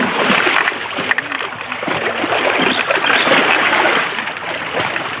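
Water splashes and churns continuously and close by as a river is crossed, likely on a carabao, with a steady rushing and sloshing texture. A voice speaks faintly at times underneath.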